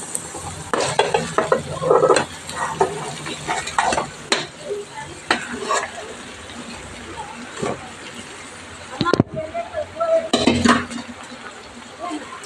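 Leafy greens hit a hot pan and are stirred, giving crackling sizzle with repeated scraping and clinks of a spoon against the metal, loud at first and then easing off.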